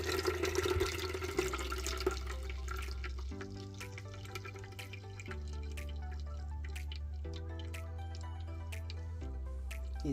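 Homemade anti-inflammatory juice drips through a strainer in quick, irregular drops and small splashes, close by, over a steady tonal background hum with no talking.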